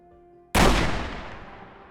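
A single sudden gunshot-like explosion in a forest bursts out loud after a quiet start, then rolls into a long, fading rumble.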